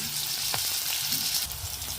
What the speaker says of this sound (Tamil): நல்லா வதங்கட்டு